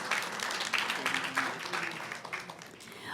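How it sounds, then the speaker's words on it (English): An audience at a school board reception applauds city attorney Gary Sines: a short burst of mixed clapping from a modest crowd, fairly loud and even throughout, with a faint voice briefly in the mix. "Let's give Gary a round of applause."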